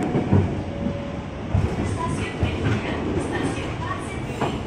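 A KRL commuter train bound for Bekasi rumbles through a station at night near Duri, a steady low roar of wheels and carriages with some clatter, continuous and fairly close.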